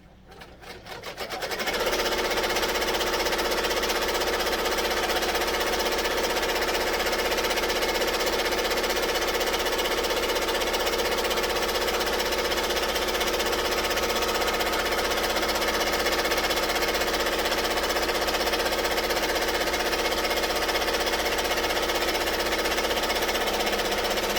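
Embroidery machine stitching a zip bag in the hoop, a steady fast mechanical rattle that starts after a brief pause and runs loud and continuous for about 22 seconds, alone with no voices.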